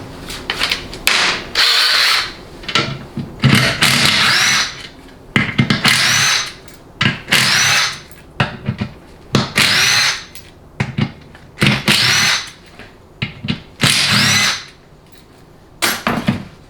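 A power tool with a 3/8 drive spins bolts out of the overdrive piston housing on a Dodge 48RE transmission during teardown, in repeated loud whirring bursts of about a second each, separated by short pauses.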